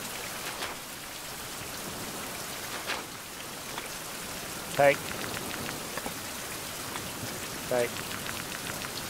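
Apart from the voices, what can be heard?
rain in the video game Survival Fountain of Youth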